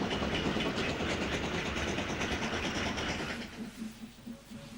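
A train runs downhill through rolling Mendip countryside south of Masbury, its rumble and clickety-clack of wheels on rail joints loud and steady before easing off and thinning toward the end, with no talk.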